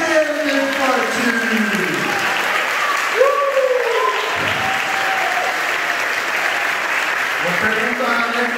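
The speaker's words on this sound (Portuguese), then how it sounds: "Aplaude ele, meu forte!" A church congregation applauds during a worship service, loud, continuous clapping blended with voices and sustained singing or musical tones weaving through the crowd noise.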